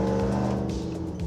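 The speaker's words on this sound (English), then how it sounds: "That's partial throttle." A 2016 Chevrolet Silverado Dirt King pre-runner truck engine pulls at partial throttle, a steady close engine drone with shifting low tones, heard from inside the cab while driving.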